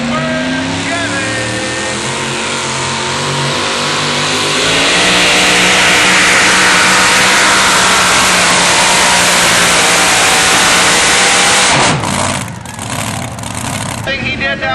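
Super Chevy pulling truck at a truck and tractor pull in Jackson, Tennessee, its engine roaring loud and steady, then rising into a harder, louder rev midway before cutting off sharply near the end, with a voice talking over it.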